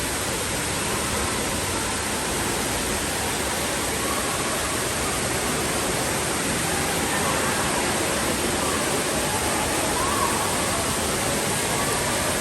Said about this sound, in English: The little water park.